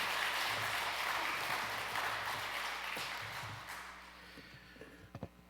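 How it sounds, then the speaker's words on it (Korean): A church congregation at Gimcheon Youngnak Church gives the deacon a round of applause after his faith testimony, dense clapping that gradually thins and fades, ending with a few scattered claps. "우리 용기 내어주신 집사님께 다시 한번 박수 한번 드리도록 하겠습니다."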